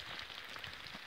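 Rain falling at an abandoned log-built building, a quiet, steady patter of drops on surfaces with no voices.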